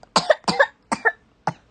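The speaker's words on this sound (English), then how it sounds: "You have the cough too, right?" A child coughs in several short, hoarse bursts, two pairs of coughs followed by a single final one, close and fairly loud with brief silences between.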